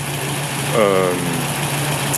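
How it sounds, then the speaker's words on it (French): A 1961 Chevrolet Corvette with a non-original engine idles steadily at close range, a low rumble with a brief swell in the middle and faint voices in the background. "un moteur qui tourne très bien"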